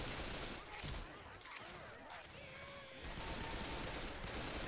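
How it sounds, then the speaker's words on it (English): Rapid gunfire in the zombie shooter Left 4 Dead 2 makes a dense, continuous crackling burst that is fairly faint and fills the whole stretch with little variation. "I can fire my guns fast."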